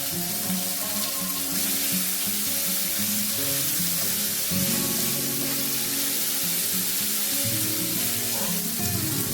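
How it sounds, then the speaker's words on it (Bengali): Chopped mangoes with salt, turmeric and a dried red chilli sizzle in a hot pan, a steady, loud frying hiss throughout with some clinking and shifting underneath and no voices. "এর মধ্যে দিয়ে দেবো কাটা আমগুলো।"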